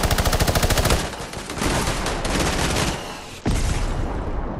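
Rapid automatic gunfire from a red-versus-blue shooter video game, loud and close, with a fast rattling burst at the start followed by sustained crackling fire and a sharp renewed volley near the end.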